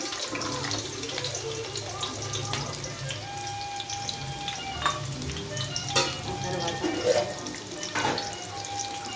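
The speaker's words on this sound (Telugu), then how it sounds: "ఇప్పుడు మనము దీంట్లో ఉల్లిపాయలు వేద్దాము" Onions frying in oil in a small pan with continuous sizzling and occasional stirring clinks, a steady close crackle with no talking.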